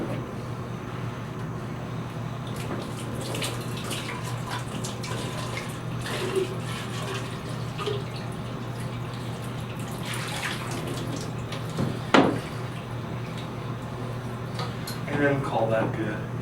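Tap water runs steadily to rinse darkroom trays, a constant splashing stream with occasional clunks of the trays being handled, and a person talking over it.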